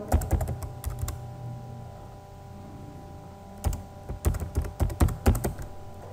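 Typing a new password on a computer keyboard, with two bursts of rapid key clicks close by and a quiet pause between them, no talk.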